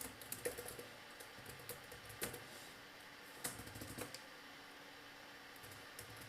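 Fingers tapping out text on a computer keyboard while coding a Python Django project: a quiet, irregular run of close clacky keystrokes with a few louder hits and brief pauses, no speech.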